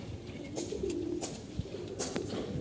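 Hira tournament pigeons coo in low, soft, throaty bursts, a few rolling calls close by against a quiet room hush with no talking.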